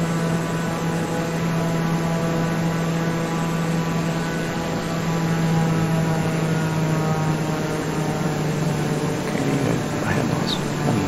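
Small propeller airplane in flight descending toward a runway on a route from Guatemala City to Rio Dulce, heard from inside as a steady, even engine drone with a constant tone throughout and no talk.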